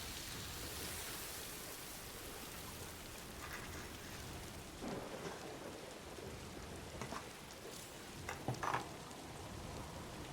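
Steady rain hisses across the whole stretch as in-game timefall in Death Stranding 2, with a few faint taps and thumps surfacing near the end.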